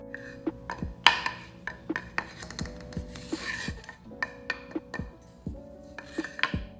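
Light wooden painting panels handled and tapped, giving a series of hollow knocks and scraping rubs at an irregular pace, close and fairly quiet.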